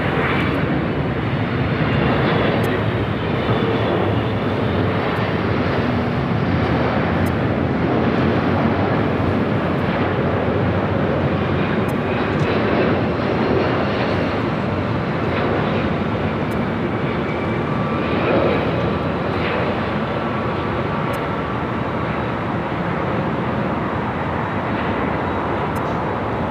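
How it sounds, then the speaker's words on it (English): Continuous broadband roar of a Delta airliner arriving from Chicago O'Hare and landing at LAX, a steady loud engine wash that holds throughout with wind buffeting and no voices. "this flight coming in from a cold Chicago O'Hare"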